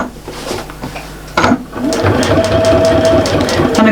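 A sewing machine set to a 2.2 stitch length sews around a small fabric star for a Christmas tree mat, starting with a soft whir and settling into a fast, steady mechanical chatter, close and fairly loud.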